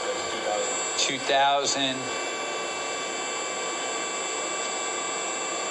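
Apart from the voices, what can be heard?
Southwest Industries DPM SX3 CNC vertical mill spindle running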